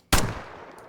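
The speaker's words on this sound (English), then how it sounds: "An old pistol left by Colin. You're right there, sir. I'm gonna test out a bullet on you." A single sharp gunshot from an old pistol in a horror video game, loud and close, with a short ringing decay and no talk over it.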